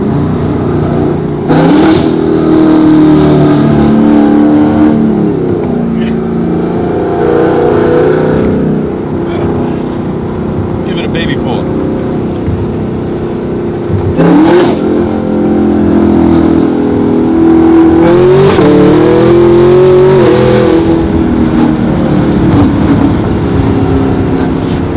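A Chevrolet Camaro ZL1 with a 750 hp package roars loudly throughout as it cruises and downshifts, its engine note swelling and falling in repeated rev surges with close, booming exhaust.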